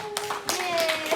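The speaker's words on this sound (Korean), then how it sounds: "우리 오랜만에 또 뵙는 건데 박수로 환영해볼까요?" A youth worship congregation at a Methodist church claps to welcome a pastor, a brief burst of hand claps over a faint sustained tone.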